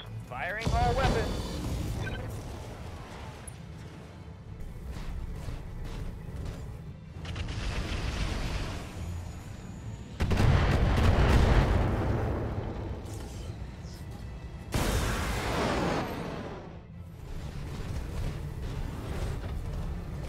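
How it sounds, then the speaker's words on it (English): Weapons fire in a video game battle, with heavy booming blasts and rumbling bursts that surge loudly at intervals beneath ongoing talking voices. "Firing all weapons."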